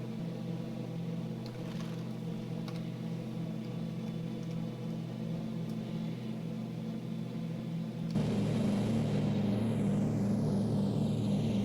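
A Douglas DC-3 piston airliner in Prepar3D drones steadily through cruise flight past 8,000 feet, a low, even engine hum that grows louder and broader in the final few seconds, with no voices.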